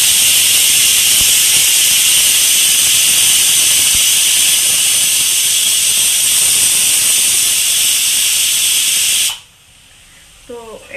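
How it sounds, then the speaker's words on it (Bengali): A pressure cooker cooking meat lets out a loud, steady hiss of steam that runs unbroken for about nine seconds, then cuts off abruptly into quieter room sound. "আর সেটি প্রেসারে দেওয়া আছে মাংসটা হচ্ছে।"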